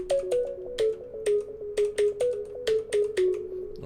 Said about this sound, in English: I chose Sweet Lead because it sounds like this.